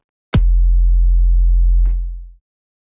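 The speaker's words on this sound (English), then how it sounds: "I'm going to teach you how to make an 808 kick and sub contact patch, which will sound a bit like this." A single deep 808-style kick hits, then a long sustained sub-bass tone from a Kontakt patch holds for about a second and a half before fading out, alone.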